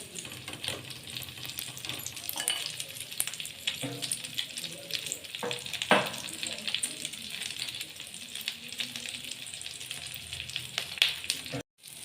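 Stuffed eggplant slices fry in oil in a pan with a continuous crackling sizzle, close and fairly quiet, broken by occasional sharper pops and small metallic clinks.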